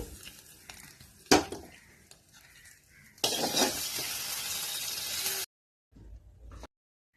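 Hot tempering of mustard seeds, onions and dried chillies is poured into pineapple pachadi after a clink of utensils. It erupts in a loud, sustained sizzle for about two seconds, then cuts off abruptly.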